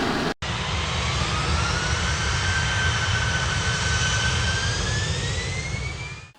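Cooling fans of a 48V inverter running at full speed, a loud steady roaring whoosh with a slowly rising whine, resembling a jet engine, starting abruptly after a brief gap and continuing alone.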